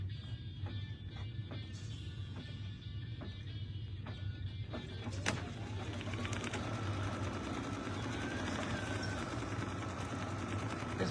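An embroidery machine sewing a placement stitch, a steady fast mechanical whir with rhythmic needle clatter running continuously, fairly quiet and close, with no talking.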